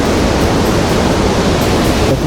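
A small waterfall at Falls of Hills Creek, West Virginia, roars as a loud, dense, unbroken rush of falling water heard up close, with no voices.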